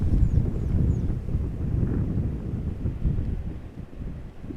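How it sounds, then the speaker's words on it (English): Wind gusts buffet an outdoor microphone at Amsterdam Schiphol Airport, a steady, loud, rough rumble that barely lets up for the whole stretch. "You can tell that the wind is picking up a little bit."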